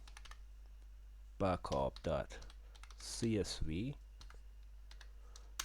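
Light clicks of typing on a computer keyboard tick away in quick bursts while someone speaks over them.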